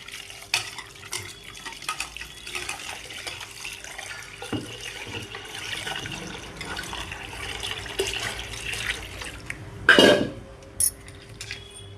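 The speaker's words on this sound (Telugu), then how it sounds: "ఇలా వాటర్ వేసేసుకోవడం." Water poured into a pot of tomato rasam, a soft running splash under faint kitchen clatter, with a brief louder gush near the end.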